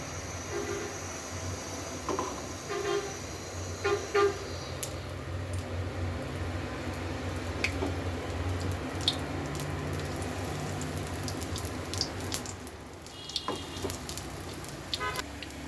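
Palm fritters (taler bora) frying in hot oil give a steady, dense sizzle that fills the whole stretch, with a few soft clicks and splashes as pieces go in.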